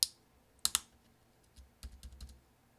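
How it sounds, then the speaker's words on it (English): A replacement 8 key on an early 2011 13-inch MacBook Pro is pressed into place, giving a few sharp, close clicks followed by softer taps. "press down with your finger. You might have to move it around a little bit until you hear several clicks."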